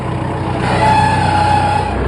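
A loud tractor engine rumbles steadily close by, a low mechanical drone with a faint whine rising over it for a moment.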